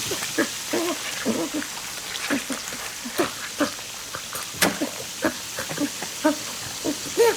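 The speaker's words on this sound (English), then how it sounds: "The shower sprays all over Simon." Shower spraying water in a bathroom, a soft steady hiss with patter and scattered drips or knocks over it, fairly quiet and continuous throughout.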